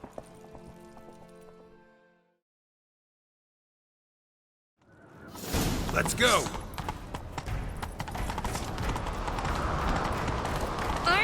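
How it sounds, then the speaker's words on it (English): Horse hooves galloping in The Witcher 3: Wild Hunt, a rapid steady clatter that starts after a brief silence and continues loud to the end, with a short shout at the start and game music earlier. "Grab a horse, we'll chase him down."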